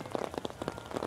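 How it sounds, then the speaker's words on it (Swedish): Sleet mixed with hail falling at an outdoor rally start in Bilbao, a dense patter of close pellet-like taps striking a surface in quick uneven bursts, with no voices over it. "Men nu är det snöblandat regn, jag får säga hagelblandat regn."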